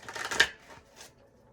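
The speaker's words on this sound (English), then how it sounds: "Thought I've shuffled enough." A quick riffle of playing cards being shuffled, a brief papery flutter followed by a couple of softer shuffles close by.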